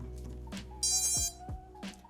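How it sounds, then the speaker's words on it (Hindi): A single tonal beep sounds from an FPV drone motor during ESC calibration, a short, clear electronic tone rising over quiet background thumps and clicks. "सिंगल बीप है ये। So this means that motor is waiting for the input."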